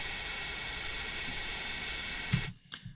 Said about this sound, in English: The sound of those engines are really good